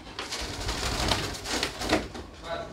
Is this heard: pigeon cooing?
yes